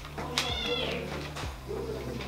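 A young female kitten meows twice close by, two short, high-pitched cries a second apart over a low steady hum.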